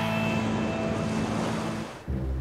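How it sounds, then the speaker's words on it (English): Cartoon ocean surf on the Gold Coast beaches, a steady loud wash of breaking waves that dips and briefly resets near the end, with no talking. "The ocean is sure making waves on the Gold Coast."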